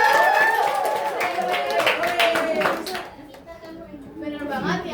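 Students in a class clap for a classmate after she finishes reading, a burst of many hands clapping close by with children's voices mixed in, fading out as a teacher's voice takes over.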